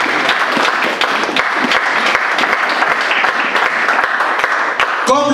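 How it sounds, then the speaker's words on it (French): A church congregation breaks into sustained, dense applause during a Sunday service, with steady clapping filling the space and a brief voice at the very end. "Acclamons la parole de Dieu"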